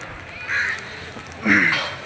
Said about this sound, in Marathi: मस्त पक्ष्यांचा आवाज वगैरे येतोय